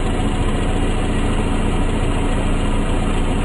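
A car engine idles steadily at about 800 rpm during a diagnostic check, a loud, even, continuous rumble with no speech over it.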